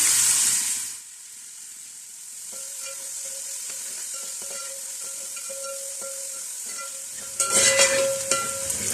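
Finely sliced onions from two medium onions fry in hot oil for a vegetable pulao, a steady sizzle with a brief louder burst of stirring near the end; no talking.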